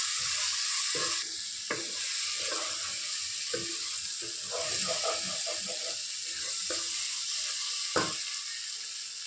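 Masala spices for paneer cashew curry sizzle steadily in a hot pan, a continuous bright hiss broken by occasional scraping stirs and soft knocks of a spoon against the metal.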